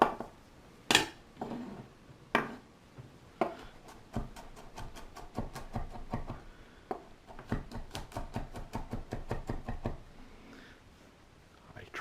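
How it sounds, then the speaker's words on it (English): A knife chops vegetables on a cutting board while making ribollita, a series of sharp, close knocks that start sparse and then speed into a quick, steady rhythm of taps. "we're just going to give it, a medium to fine chop here"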